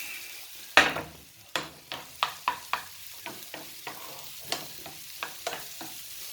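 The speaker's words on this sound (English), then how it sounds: "So now we're going to stir this." Healthy burger ingredients sizzle in a frying pan while a utensil stirs them in a series of sharp scraping strokes, one loud first scrape followed by lighter, irregular stirs over a steady quiet fry.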